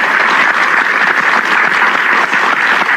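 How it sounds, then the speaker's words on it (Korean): A studio audience bursts into sustained, dense applause on a Korean TV talk show, loud and steady from start to finish with no voices over it. "다시 한번 박수를 주십시오."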